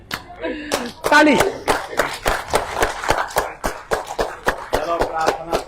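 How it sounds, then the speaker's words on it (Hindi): Group clapping during a yoga session for heart health, a rapid series of sharp claps in a steady rhythm with voices and laughter mixed in underneath. "ताली।"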